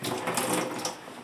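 Water poured over a baby's head during a first bath, a brief close, steady splashing gush.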